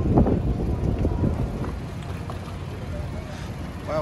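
Police boat motoring in on the water off Phi Phi Island in Thailand, a low engine rumble under heavy wind noise, with brief voices nearby.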